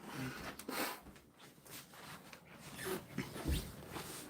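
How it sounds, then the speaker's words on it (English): A dog whimpers and snorts close by, with soft whines, breathy snuffles and sniffs that rise and fall over a few seconds against a rustling indoor background, with no talk. "My dog is a vicious monster."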